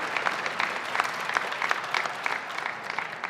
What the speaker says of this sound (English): you can clap for Carbon County or its height or whatever